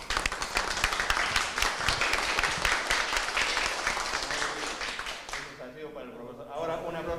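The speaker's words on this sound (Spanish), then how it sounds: "un aplauso para su profesor" Schoolchildren and guests at a Peruvian school inauguration in Pucusana applaud their teacher with sustained, dense clapping that cuts off abruptly near the end, leaving quiet voices.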